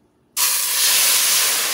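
Half a cup of red wine poured into a hot pot while making ropa vieja sets off a sudden loud steaming hiss that starts sharply and holds steady to the end.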